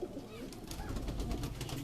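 Pigeons coo softly in a continuous low murmur across a rooftop loft, close and fairly quiet.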